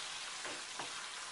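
Mushrooms and onion frying in a pan as they are stirred, a steady broadband sizzle with two brief scraping strokes, close and fairly quiet.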